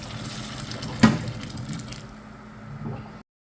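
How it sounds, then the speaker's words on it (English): Boiled water is dumped from a pot of chicken bone broth outdoors on a deck. A sharp knock comes first, then a steady splashing rush of pouring liquid that stops suddenly. "What we're going to do is we're going to dump this water,"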